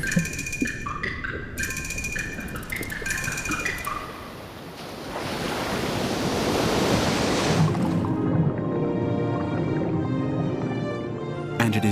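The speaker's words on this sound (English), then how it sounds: "the surface of the water is whipped up by winds and the swell of the waves" Open ocean surface whipped up by wind, with broad, steady wave wash and swell rising and falling throughout, partly under a musical score in the opening seconds.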